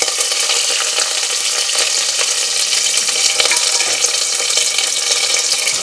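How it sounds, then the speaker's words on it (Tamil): Steady, crackling sizzle of onions frying in hot oil with curry leaves for Tamil mor kuzhambu, loud and close, with occasional stirring scrapes and no talking. "இப்போ இதில் வந்து வெங்காயம் போட போகிறேன்."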